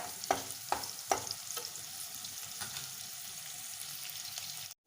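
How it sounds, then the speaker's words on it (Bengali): Chopped onions frying until browned in a pan for a restaurant-style chicken vorta, a fairly soft sizzle close by with several sharp scraping stirs early on, then a steady crackle that cuts off abruptly. "পেঁয়াজটা আমি একটু লাল করে ভেজে নেব।"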